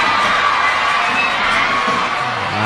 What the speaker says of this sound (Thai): แล้วก็เสียงเชียร์จากแฟนบาล